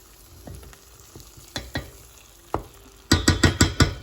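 Fresh green chilies fry and sizzle in a pan for a corn curry in peanut sauce, with a steady crackle under scattered clinks and scrapes, then a loud run of five or six sharp stirring knocks near the end.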